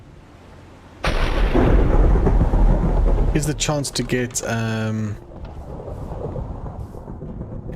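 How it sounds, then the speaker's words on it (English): A loud thunderclap cracks and rumbles during a Minecraft thunderstorm, with a sharp onset that rolls on for several seconds before easing into a softer rain-like wash, while a voice speaks over it. "thunderstorm. Wow."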